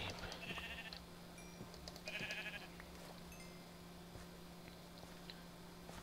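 A sheep in Minecraft bleats a couple of times, short wavering calls over a faint steady hum and scattered game clicks.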